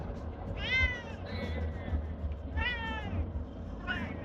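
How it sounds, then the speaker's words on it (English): A cat meows four times at a quiet, close range, with short rising and falling calls spaced over a few seconds against a faint background hum. "You're the best kitty, Wes."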